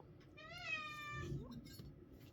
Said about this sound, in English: That's Dexter the cat